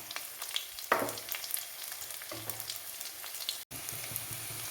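Garlic and curry leaves fry in a pan with a steady close sizzle, a sharper burst of spitting as they go in, then continued crackling and light stirring.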